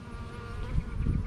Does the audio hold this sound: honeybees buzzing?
yes